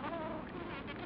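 Bumblebees buzz steadily around wild rose flowers, a close, continuous droning hum with no talking.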